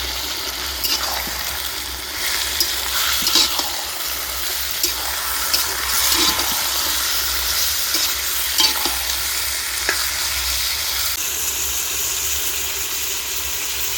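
Chicken pieces and half-fried onions sizzle loudly in a pan, a dense continuous frying hiss with occasional stirring scrapes, close and steady throughout.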